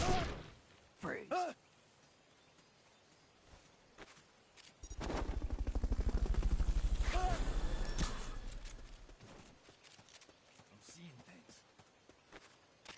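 A Fulton recovery helicopter in Metal Gear Solid rises to a loud, pulsing rotor roar that swells over several seconds and then fades, with brief voices and sharp effects before and after.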